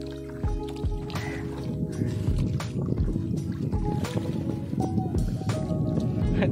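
A kayak is paddled through water on a forest outing in Pondicherry, with steady splashing and dripping strokes and low rumbling water noise running throughout, close and fairly loud.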